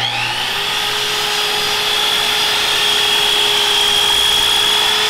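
A Festool Kapex sliding compound miter saw cuts a miter, its steady high motor whine and broadband cutting noise loud and close throughout, with no voices.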